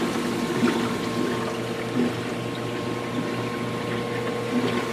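A steady, continuous aquarium water pump hum on a 400-gallon bowfront tank, with a faint watery gurgle, running evenly and fairly quietly throughout.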